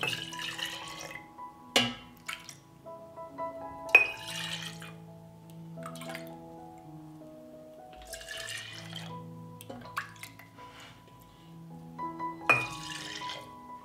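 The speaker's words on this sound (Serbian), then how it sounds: "U svaku teglu sipat ću po kutlaču mleka." Soft pouring and splashing of milk comes in short bursts as a ladle is emptied into each glass jar, with occasional glass taps and a steady low hum in the background.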